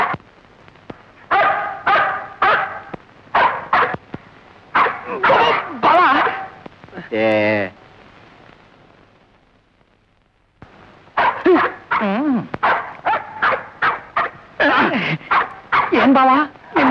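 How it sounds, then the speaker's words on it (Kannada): A dog barks in repeated bursts of sharp, close yips, pauses briefly, then resumes with a fast string of barks mixed with whimpering. "ನಿಮ್ಮ ನೋಡುತ್ತಲೇ ನಾಯಿ ಬೊಗಳ್ತಾ ಇದೆ."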